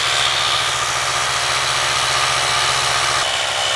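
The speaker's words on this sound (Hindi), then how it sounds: "तो MI का भी यूज़ करेंगे और ये जो मिशलिन का, ये दोनों" A Xiaomi Mi portable air compressor and a Michelin micro tyre inflator running together while filling a bike tyre, giving a loud, steady motor buzz with a fast pulsing vibration and no talking.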